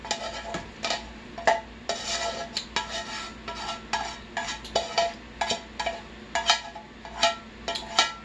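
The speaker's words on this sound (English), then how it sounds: "Just scrape it all in there." A utensil scrapes beef kielbasa, ground turkey, onion, celery and scallions into a soup pot, making a quick series of close metallic scrapes and clinks with no talking.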